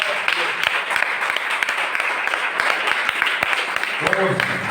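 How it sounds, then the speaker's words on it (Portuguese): A church congregation applauds during a worship service, steady clapping from many hands with sharp individual claps standing out, and a voice briefly heard near the end. "Aplauda o Senhor Jesus."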